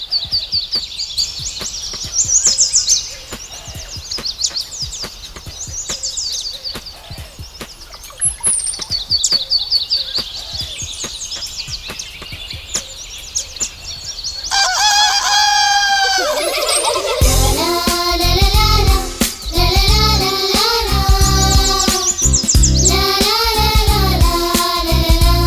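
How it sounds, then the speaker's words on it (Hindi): Animated morning birdsong: busy chirps and tweets from several birds, fairly loud and continuous, shifting midway into a denser, brighter chorus of calls with no talk over it. "ये तो परिंदे हैं। ये सुबह सुबह उठकर ही बकबक करना शुरू कर देते हैं।"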